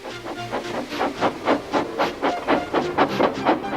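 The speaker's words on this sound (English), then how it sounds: "Gordon, with much noise and blowing of steam," Steam locomotive hissing and blowing off steam in rhythmic bursts, a steady train of loud, chuffing puffs close by, with no voices.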